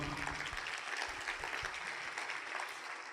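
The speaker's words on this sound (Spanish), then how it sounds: "Alguien dale un aplauso a Jesús." Church congregation applauding in a steady, faint wash of clapping, with a low rumble of room noise beneath.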